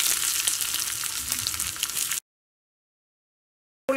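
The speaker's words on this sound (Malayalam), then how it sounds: "ഉള്ളി നന്നായിട്ട് മുരിഞ്ഞു തുടങ്ങിയിട്ടുണ്ട്" Dried red chillies and chopped red onion frying in hot oil give a steady, close sizzle for about two seconds, followed by silence and a brief return of frying at the end.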